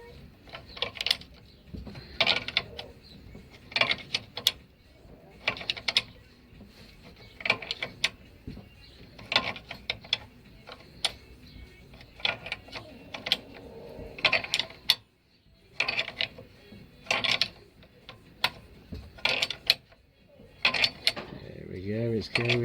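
Subframe bush being tapped and tightened into a Daewoo Matiz rear subframe: repeated sharp metallic knocks in irregular clusters mixed with ratchet clicks, close by and fairly quiet, with faint background noise.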